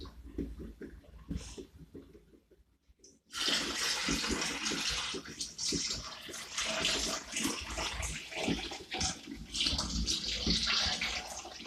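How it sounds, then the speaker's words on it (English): Rice being rinsed and rubbed by hand under running water in a kitchen sink, a quiet start giving way to steady splashing and swishing from a tap that continues for several seconds. "you rub your rice to get most of the dirt and the starch off"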